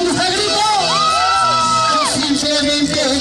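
Crowd at a live concert by a singer in Tepanco shouting and cheering loudly throughout, with whoops and yells over a continuous roar of voices.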